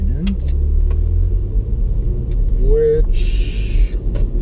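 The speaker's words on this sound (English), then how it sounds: "I'm driving a new car. It's a 2018 Porche Macaan S." A 2018 Porsche Macan S engine rumbles low and steady from inside the cabin, with a brief higher whine and a burst of hiss partway through; no one speaks.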